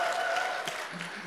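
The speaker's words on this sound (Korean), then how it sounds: "박수." A congregation applauds during a Sunday church service, brief, steady clapping that carries on at an even level and then tapers off.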